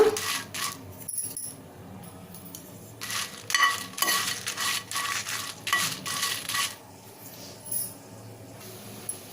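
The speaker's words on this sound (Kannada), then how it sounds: "ಈಗ ಇದನ್ನು ಮೀಡಿಯಮ್ ಫ್ಲೇಮಲ್ಲಿ ಹದವಾಗಿ ಗರ್ಗರಿ ಆಗೋವರೆಗೂ ಹುರ್ಕೊಳ್ಳೋಣ" Dried Byadgi and Guntur red chillies roast in hot oil in a pan over a medium flame. Close, irregular scraping and clinking stir strokes mix with light crackling, with no talk.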